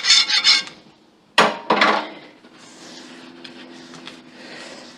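Scraping and rubbing at a cast iron pan during cleanup after cooking hash browns and sausage, with a few loud bursts of scraping, then quieter continuous rubbing with a faint hum underneath.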